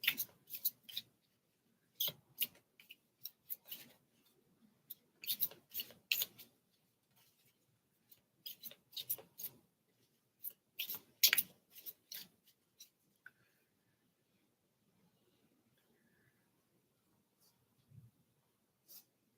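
Quick bursts of crisp riffling and flicking, like cards being shuffled, come in short irregular clusters with quiet gaps, close and fairly soft.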